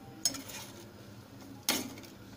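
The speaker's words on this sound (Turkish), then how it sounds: "tencereye ilave ettikten sonra onu bir kepçe yardımıyla alt üst etmeye çalışıyoruz" A ladle turns red peppers in a cooking pot while homemade red pepper sauce is being made. Two sharp metallic clanks ring out against the pot, with quiet rustling and soft scraping between them.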